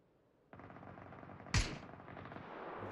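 In a PUBG match, a single sharp gunshot cracks out against a low steady background of game ambience, fairly loud and isolated with no talk.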